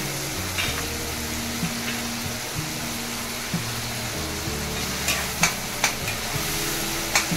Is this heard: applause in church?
no